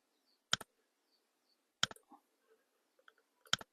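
Three sharp, isolated clicks of computer keyboard keystrokes spaced about a second apart, with a few softer taps in between, close and quiet with no talking.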